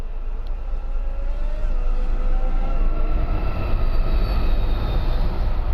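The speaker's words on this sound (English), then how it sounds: "it's a train coming past the house, and the train is like miles away." A train rumbles past in the distance, a steady low roar with faint squealing tones that swells slightly and then holds, with no talking over it.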